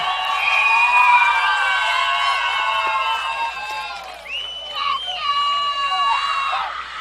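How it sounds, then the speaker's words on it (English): Spectators cheer and scream at an 8-man football championship game, a loud sustained roar of high voices and whoops from the stands that dips briefly and then swells again. "Good crowd here at CY Sports,"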